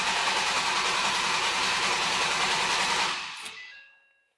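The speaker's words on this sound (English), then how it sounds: "crank engine." An engine cranks steadily with a rapid rhythmic churning for about three seconds during a relative compression test, then stops and fades into silence.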